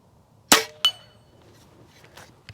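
An air rifle, a JTS Airacuda, fires at a red steel target: a sharp crack is followed a moment later by a ringing metallic ricochet, then a faint, distant tick in otherwise quiet surroundings.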